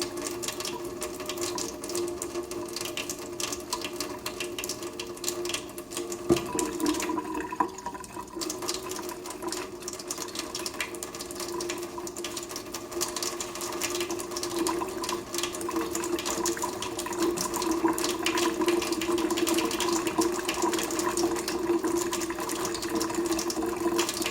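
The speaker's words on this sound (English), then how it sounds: "This is the type of brush that you use for brushing out test tubes" A test tube being scrubbed with a brush and soap at a lab sink, a steady rhythmic scrubbing and running water rising slightly in loudness, with no voices.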